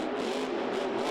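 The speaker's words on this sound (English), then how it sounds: "listen to the throttle rhythm here of Dennis Anderson and Gravedigger" Grave Digger monster truck engine at a 2011 freestyle event in the Georgia Dome, Atlanta, its throttle tapped on and off, giving a steady loud roar with a broad, continuous engine rumble.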